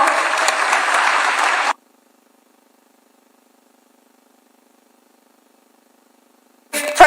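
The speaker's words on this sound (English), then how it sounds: "Please give him a round of applause." At the Africa Forward Summit, a large audience gives a dense burst of applause that cuts off abruptly into silence, followed by a brief noise at the very end.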